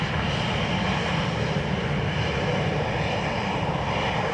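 Steady loud roar of an aircraft engine at Dublin Airport as a plane comes in to land on runway 28 left, a continuous broadband rumble with no talk.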